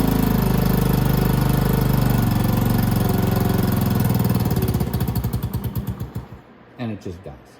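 A 50cc automatic motorcycle with a faulty carburetor runs loud and close for a few seconds, then sputters into uneven chugs and dies out.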